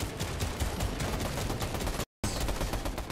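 SMG fire in a video game: a dense, continuous stream of rapid shots, loud and close, rattling almost without pause for about three seconds apart from one brief silent gap.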